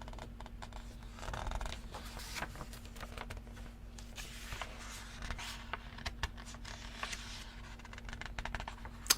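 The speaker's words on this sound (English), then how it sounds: "Hopefully the page sounds are coming through nicely." Glossy, shiny-stock pages of an old yearbook are turned and handled by hand, giving soft rustles, flicks and light slaps close to the microphone over a low steady hum.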